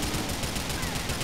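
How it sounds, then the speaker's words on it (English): Gunshots in the video game Grand Theft Auto 4 sound as a brief, loud wash of rapid firing that fills the short moment at an even level. "Go on, Nico, shoot that guy."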